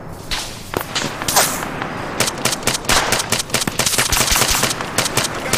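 Rapid gunfire from an Arma 3 co-op firefight in the Tanoa jungle, with dense bursts of automatic fire and sharp single shots cracking continuously and loudly throughout.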